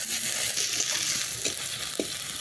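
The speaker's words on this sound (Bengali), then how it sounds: "পেঁয়াজ আর লঙ্কাটা একটু ভালো করে ভেজে নেব।" Onion, chili and ginger-garlic paste sizzle steadily in a pan for a Bengali fish curry, with a few soft scrapes of stirring breaking through the continuous frying hiss.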